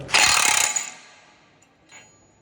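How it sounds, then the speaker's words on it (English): A Makita 40V impact wrench in reverse breaks a nut loose with a short, loud, rattling burst of hammering that stops abruptly, followed by a brief faint mechanical click. "Once it breaks the nut, it's going to stop."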